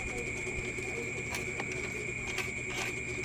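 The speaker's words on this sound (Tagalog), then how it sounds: "Try natin paikutin nga yung blower kung umiikot." A blower fan on a BS-999000W unit under relay repair is turned by hand, giving faint rhythmic ratcheting clicks over a steady mechanical hum and tonal whine.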